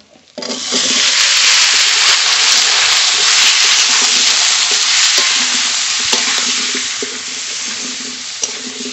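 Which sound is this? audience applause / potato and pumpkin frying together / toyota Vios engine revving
potato and pumpkin frying together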